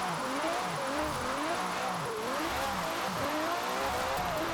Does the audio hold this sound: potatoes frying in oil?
no